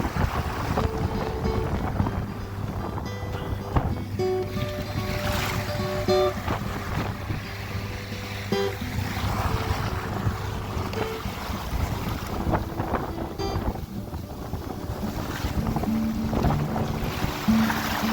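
A sailing dinghy surfs down waves off Waiheke Island, with loud constant wind buffeting, rushing water and hull noise throughout, plus occasional clicks and creaks of rigging.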